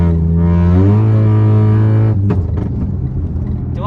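A Honda Jazz GK5 engine with a conventional automatic gearbox kicks down to a lower gear: a steady engine drone climbs in pitch, then cuts off abruptly into rougher, lower rumbling, heard close with no talking.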